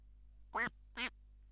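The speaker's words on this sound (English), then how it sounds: "just wait around until you hear some quacking noises" Two short quacks from a duck in a video game, evenly spaced about half a second apart, clear and isolated over a quiet steady hum.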